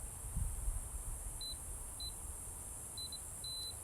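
Short high beeps from a multimeter continuity tester checking household wires, the probes touched to a white wire and a black-and-white wire. Several brief tones come singly and in quick pairs over a low background rumble.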